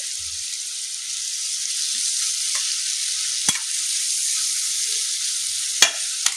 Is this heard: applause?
no